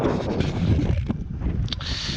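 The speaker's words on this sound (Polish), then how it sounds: "wieje mocny wiatr" Strong wind buffets the microphone with a steady, loud rumbling roar, gusting throughout, outdoors by the water while fishing.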